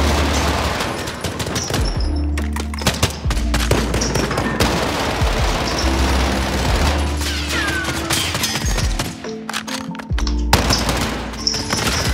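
Video game gunfire as a weapon's entire ammo supply is emptied, loud dense automatic bursts that run almost without a break, with booming impacts layered underneath.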